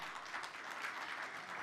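Faint, distant applause fills a conference hall after a fintech speaker is honoured, a steady wash of many hands with no distinct individual claps.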